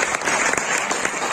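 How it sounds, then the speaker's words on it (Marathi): An audience at a college career workshop claps vigorously in a short, dense burst of many hands, loud and close throughout. "एकदा आपण जोरदार टाळ्या"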